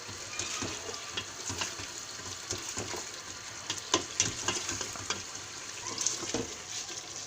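Meat sizzling in oil for aloo gobhi gosht, stirred with a utensil that scrapes and clacks against the pan in irregular strokes over a steady close frying hiss, with no talking.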